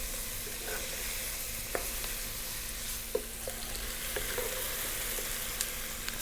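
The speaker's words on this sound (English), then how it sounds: "Again, little stir every now and then." An eggplant lentil vegetable cumin stew frying in a pan, a steady low sizzle with a faint hum and occasional light clicks of a stirring utensil.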